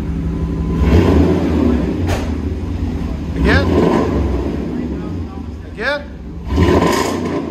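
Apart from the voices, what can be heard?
1997 Chevy 1500 5.7L V8 revving, Flowmaster Super 10 dual exhaust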